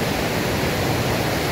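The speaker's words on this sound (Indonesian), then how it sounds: "Oke, sekarang kita udah di Sungai Alas besar." Loud, steady rush of the Alas River at the confluence of two streams, broadband water noise heard close and continuous with no voices.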